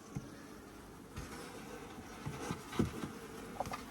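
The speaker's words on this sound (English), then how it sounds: "Lots of bees." Honey bees hum in a low, faint drone around an open hive on a UK bee farm, with a few soft bumps and crackles near the end.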